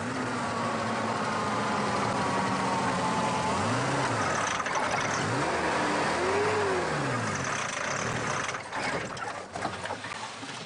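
An engine on a rough Liberian road revs with rising and falling pitch as the vehicle strains, then sputters into uneven bursts near the end as it breaks down; steady mid-level motor noise with no talk.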